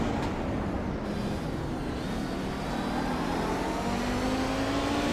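Heard on board the number 13 GT race car during Kamel GT Championship Round 3 at Sonoma Raceway, the engine drones loud and close with its pitch climbing steadily, and nobody speaks.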